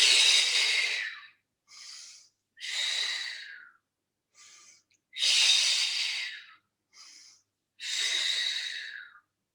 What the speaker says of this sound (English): Breathe in to stay and breathe out to lower.